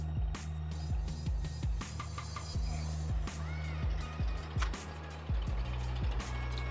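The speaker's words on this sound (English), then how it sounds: "Hold on, let me let this truck go by." A truck drives past outdoors, a steady low engine rumble with repeated rhythmic thumps and clatter as it rolls by close, with faint background noise and no talk over it.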